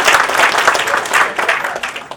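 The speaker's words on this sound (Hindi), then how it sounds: "जोरदार तालियां नवनीत हुल्लड़ के लिए।" An audience at a Hindi humour poetry gathering applauds the poet Navneet Hullad: a loud burst of crowd clapping, dense and close, rising and falling slightly over its short span with no speech.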